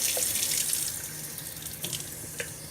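Tap water runs steadily into a jar of broccoli sprouts in a sink, a continuous close rushing stream that eases slightly partway through with small splashes.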